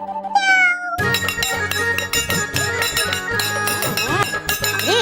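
A voice imitates a cat's meow, a rising wavering cry in the first second, then loud music with a plate clanging over it takes over for the rest.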